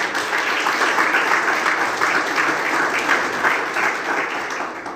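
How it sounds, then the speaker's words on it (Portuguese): A church congregation applauds, steady dense clapping from many hands filling the room at even strength throughout. "Vamos aplaudir o Senhor, glória a Deus."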